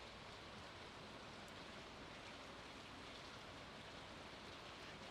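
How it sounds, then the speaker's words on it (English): Rain in the farming video game Stardew Valley, a soft, uniform, continuous hiss of falling drops, quiet and unchanging throughout, with no voices. "so we'll just listen to the rain."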